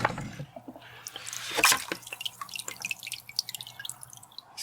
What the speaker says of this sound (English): Gave her a rinse with the garden hose.